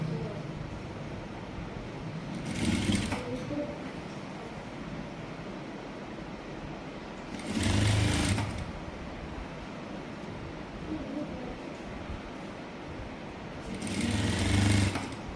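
A sewing machine stitches clothes at home, giving a continuous close whirring hum that swells into three louder surges at roughly regular intervals.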